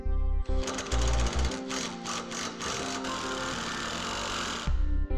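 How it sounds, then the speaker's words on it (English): A self-threading bolt is driven into the end of a Blue Ox tow bar base plate tube on a 2004 Chevrolet Cavalier. A power driver whirs, then rattles in rapid, loud repeated impacts for several seconds, with a motor hum before and after. "We'll use a self-threading bolt to the end of the tube."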